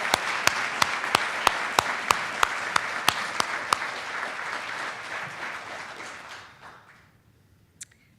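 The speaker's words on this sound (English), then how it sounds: "Let's give Mr. Steve Adams a big round of applause for his hard work and dedication" A crowd applauds at the 2014 Mayor's Community Service Awards, a full, even wash of clapping with a few sharp, loud claps standing out in a steady beat, then fading away toward the end.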